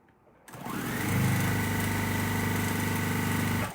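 A sewing machine stitches quilt triangle pieces, starting abruptly and running as a steady, close mechanical whir with a fast even rhythm for about three seconds before stopping.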